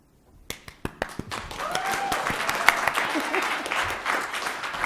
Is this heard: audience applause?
yes